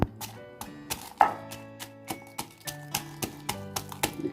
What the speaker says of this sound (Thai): บัดนี้ก็ถึงขบวนการตำ